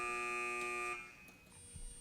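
A quiz bowl buzzer sounds one loud, sustained electronic tone at a high school quiz match, cutting off after about a second and leaving quiet room noise.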